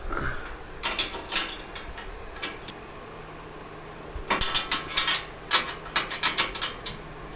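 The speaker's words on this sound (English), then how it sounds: "I'm going to take our 13 millimeter, tighten those up." A 13 mm ratchet tightens bolts during a Segway Villain overlanding build, heard as two bursts of quick metallic clicking, close and fairly loud, separated by a quieter pause.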